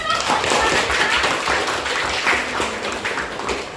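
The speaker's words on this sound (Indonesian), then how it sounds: "kasih tepuk tangan" Students in a grade 11 Indonesian history class clap together, a brisk, fairly close patter of many hands that stays even for a few seconds and then tapers slightly.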